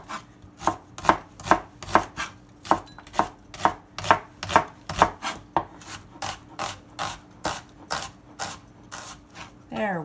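A knife chopping onions into small pieces on a cutting board, with steady, crisp, closely spaced strokes repeating throughout and a brief sizzle or scrape at the end.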